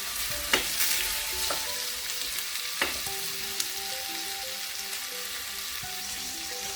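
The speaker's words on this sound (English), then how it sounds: "we're going to do this until the onions become really translucent" Chopped onions sizzle steadily in a pan for a coconut curry with king prawns, with a few sharp utensil clicks and scrapes from stirring near the start and middle.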